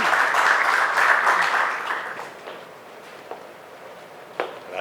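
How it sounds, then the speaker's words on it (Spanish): Audience applause at a panel event in the Caribbean welcoming the president of the Fundación Juan Bosch to the stage, a dense burst of clapping that fades over a few seconds into quieter scattered claps. "Vamos a recibirlo con un aplauso."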